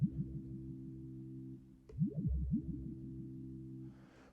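An Emu Proteus 2000 synth plays a fast repeating pattern at tempo 184, with steady stacked tones, a brief sweeping pitch bend partway through, and a short hiss near the end.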